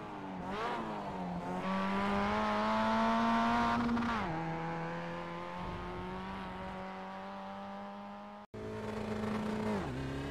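A race car in the iRacing sim at Donington Park revs hard through the gears, its engine note climbing and dropping with each shift, with a brief cut near the end.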